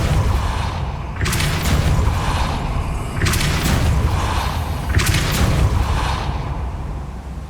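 Depulso force spell impacts in Hogwarts Legacy land as three heavy booming whooshes at steady intervals, loud and close over a dense rumbling game ambience.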